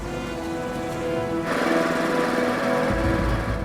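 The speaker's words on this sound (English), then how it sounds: "This is a deep-bore drill." A deep-bore drill run by a geophysicist extracting soil samples at an archaeological dig: a steady mechanical grinding drone that grows louder and harsher partway through, with heavy low rumble toward the end.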